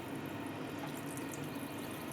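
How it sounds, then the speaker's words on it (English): Water or broth being poured into a pot of simmering Filipino sinigang pork soup, a steady, even rush of liquid that holds at constant loudness for about two seconds, with no talking. "you can add more water or broth"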